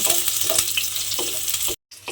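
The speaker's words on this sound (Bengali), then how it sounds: "পেঁয়াজটা আমি তেলের মধ্যে দিয়ে এবারে একটু হালকা করে পেঁয়াজটা ভেজে নেব" Onion frying lightly in hot oil in a home kitchen pan: a close, steady sizzle with a few stirring scrapes, briefly cutting out near the end.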